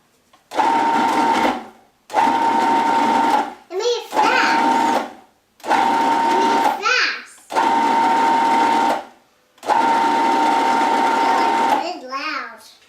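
A food processor pulses pie crust dough in six loud bursts of whirring motor, each one to two seconds long with short gaps between, and brief bits of speech fall in some of the pauses.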